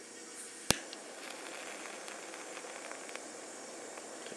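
A tiny steam power plant's boiler is lit with one sharp click, followed by a faint, steady hiss as it begins heating.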